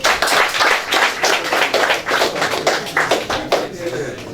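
A small audience claps at a robotics competition finale, a brisk, close burst of uneven hand claps with distinct individual slaps running throughout the few seconds.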